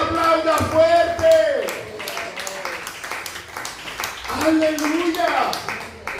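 A church congregation claps loudly in steady, dense applause that swells at the start, dips midway and rises again, mixed with raised voices throughout.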